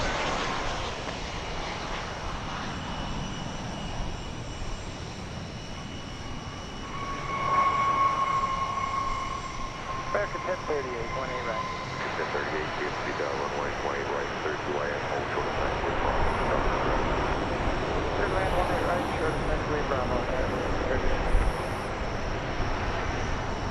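American Airlines flight 537 from El Paso, Texas arrives at DFW Airport, its engine noise a steady broad roar that swells slightly over the long stretch, with a person talking over it at times.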